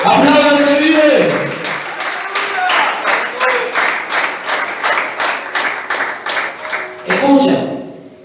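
A church congregation claps together in a loud, fairly regular rhythm during a sermon. Voices are heard at the start and end, and a speaker talks over the middle stretch.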